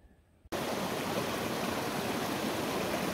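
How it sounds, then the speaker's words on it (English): A small waterfall on the Tim River just below a dam rushes as a loud, steady, broad roar that begins abruptly after a brief quiet moment and continues unbroken. "This is the other side of the falls that we just portaged around."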